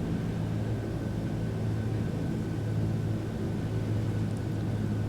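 In a flight simulator, a Douglas DC-3 on approach gives a steady, droning piston-engine rumble that holds constant and fairly loud throughout, with no speech.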